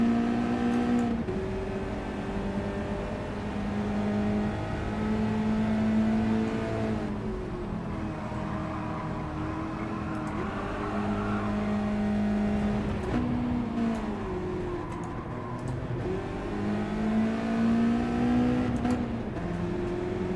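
A Gr.1 race car engine in Gran Turismo 7 at La Sarthe drones steadily, rising and falling in pitch through gear shifts, a continuous close whine and hum with no talking.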